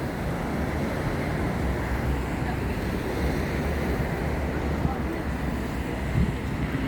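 Steady broadband wash of sea waves along a seaside cafe shore at Mahmudlar, continuous and fairly loud with wind rumble, no distinct voices standing out.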